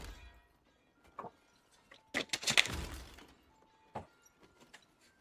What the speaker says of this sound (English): I hear the sword clinking around still in the background